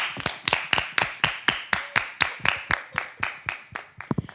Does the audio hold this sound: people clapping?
yes